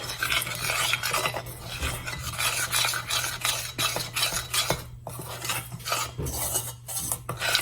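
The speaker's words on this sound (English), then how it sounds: "And then I'm gonna slowly start adding and incorporating my flour. Mix this together." Flour is worked into thick chocolate brownie batter, a loud close rhythm of scraping strokes against the bowl with a low steady hum underneath, no talk.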